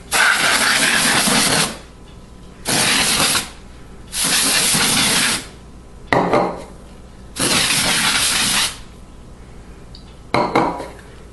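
Compressed air blasts dust out of a Gateway ATX PC tower in four long bursts of loud, close hissing, each lasting one to two seconds, followed by two short puffs.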